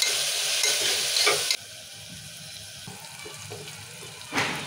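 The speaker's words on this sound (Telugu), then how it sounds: "నూనెలో ఉడికిస్తున్నాము." Tomato, ginger and garlic fry in oil while being stirred for a mutton paya curry, giving a steady close sizzle with louder bursts at the start and again near the end, no talking.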